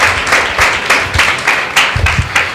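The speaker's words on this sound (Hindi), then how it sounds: "एक जोरदार ताली परमेश्वर की महिमा के लिए बजाते हुए हम अपने भाई दिलीप का परमेश्वर की वेदी पर स्वागत करते हैं।" A church congregation at a Sunday meeting breaks into loud, sustained applause, with rhythmic clapping bursts filling the room.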